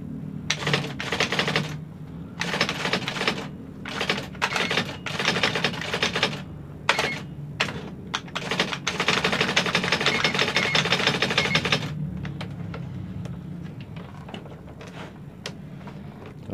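An IBM 1000 electronic typewriter types in rapid bursts of sharp mechanical strikes separated by short pauses, followed by a longer continuous run of keystrokes and then quieter scattered clicks.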